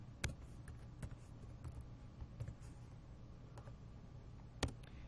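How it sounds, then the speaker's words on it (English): Light clicks of a computer keyboard as an equation is typed in a math lecture, a sparse, irregular run of soft taps with a few sharper keystrokes over a quiet room hum. "I'll start by just typing in another equation."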